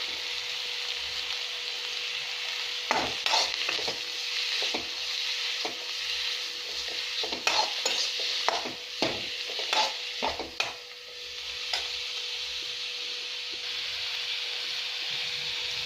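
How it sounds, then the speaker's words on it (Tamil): Fresh coriander sautés in a pan for a chutney. A steady frying hiss runs under repeated scraping and stirring clatters of a spatula against the pan, close and uneven in rhythm. "இதை நம்ம கொஞ்சம் வதக்கணும்."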